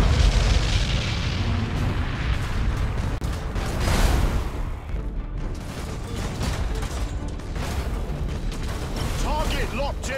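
A flagship explodes in the space strategy game Battlefleet Gothic 2: loud, sustained booming blasts and rumbling bursts fill the whole stretch, with a voice heard briefly over the din.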